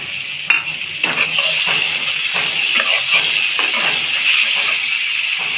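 Cauliflower mash frying with tomato and chopped coriander, a loud, continuous sizzle and hiss with repeated stirring scrapes at an uneven rhythm.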